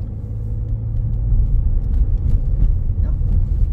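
A car engine in a driving simulator rumbles steadily as a learner driver presses the gas, building slightly in loudness over a few seconds and staying low and continuous throughout.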